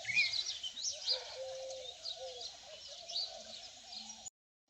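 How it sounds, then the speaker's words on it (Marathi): Sparrows chirp in trees on a morning farm, with quick high twittering calls scattered over a low background hum, moderately near and fairly faint, stopping abruptly at the end. "आणि इकडे सकाळ सकाळ चिमण्यांचा कसं चिवचिवाट चालू आहे झाडांवर बसून"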